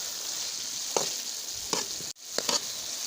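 Minced meat keema fries in a pan with chilli masala, crushed red chilli and salt, a soft, even sizzle punctuated by a few quick stirring scrapes and one brief drop-out.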